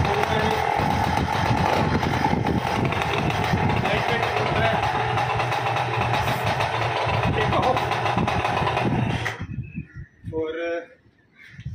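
A paramotor engine roars steadily up close for several seconds, then cuts out abruptly, and a voice follows in the quiet.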